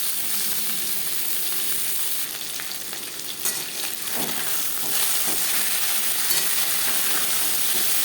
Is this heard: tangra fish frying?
yes